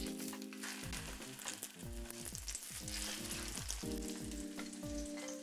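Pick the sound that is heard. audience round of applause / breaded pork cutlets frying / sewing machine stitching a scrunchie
breaded pork cutlets frying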